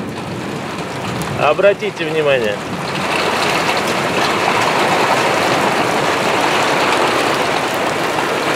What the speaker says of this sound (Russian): Капли пошли крупнее и крупнее.